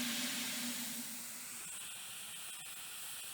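Steam locomotive safety valves blow off with a loud, steady hiss, strongest at the start and easing slightly while continuing throughout, with no voices.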